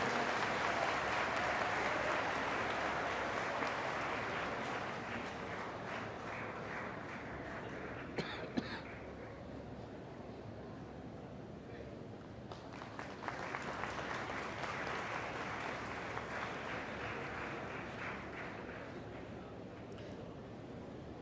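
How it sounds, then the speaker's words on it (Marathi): Sustained audience applause at a lecture event at the University of Mumbai: dense, steady clapping that thins briefly midway, then swells again to full strength before easing off. "टाळ्यांचा कडकडाट होऊ द्या ना,"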